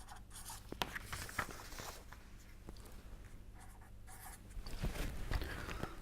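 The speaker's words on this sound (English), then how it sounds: "Let me write down these conditions in detail." Chalk or pen writing out conditions during a statistics lecture: close, continuous scratchy strokes with sharp taps, steady throughout with no talking.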